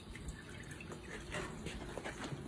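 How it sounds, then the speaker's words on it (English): Hot wax dripping off a teal duck just dipped for plucking, a soft steady patter of drops with faint watery trickling, close and quiet with no talk. "We just let it drip for a few seconds."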